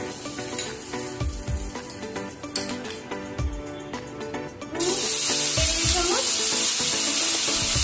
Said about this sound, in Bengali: এই তেলের মধ্যে একটু গোটা গরম মশলা ফোড়ন দিয়ে দিলাম, দুটো তেজপাতা দিয়ে দিলাম